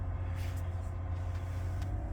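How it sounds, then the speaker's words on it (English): A Lexus IS250 engine idles at raised revs on a cold day, a low, steady, quiet rumble heard from inside the car with no talking. "it's cold outside, so my car is revving a little higher"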